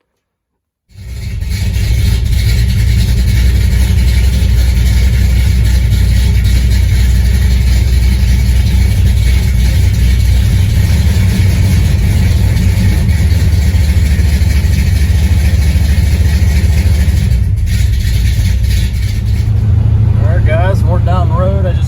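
A car with a newly installed vacuum canister drives down the road, its engine a loud steady low drone from inside the cabin with windows up, holding constant after a quiet start and with a voice briefly heard near the end.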